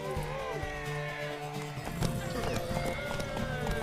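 A horse race in The Witcher 3: Wild Hunt Remastered on PS5: rapid galloping hoofbeats clatter close by, mixed with a horse's whinnies and background music.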